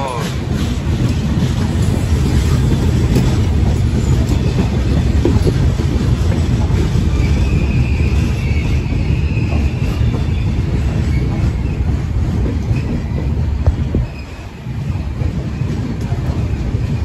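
Puri Kamakhya Express rolling along the main line in India between stations, a loud steady rumble of wheels and carriages with faint clatter and brief squeals throughout.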